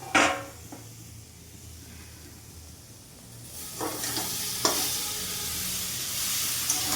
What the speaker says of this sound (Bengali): মশলাটা নেড়ে নিলাম, এবার এটার মধ্যে সয়াবিনটা দিয়ে দেবো।